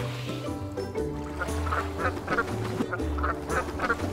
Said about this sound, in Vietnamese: Chim hải âu bên này là đặc sản đó.